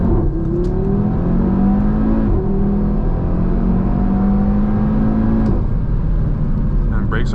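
A 2019 Audi TT RS in sport mode revs up steadily through rising gears, loud and close, with a continuous rumble and a couple of brief shifts.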